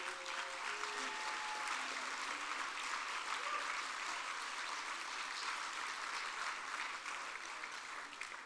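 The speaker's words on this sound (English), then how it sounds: "Please give a round of applause to our 2020 award recipient." Steady applause from an audience at a youth celebration event honoring a community award recipient, sustained and even throughout, fairly distant, with faint voices underneath.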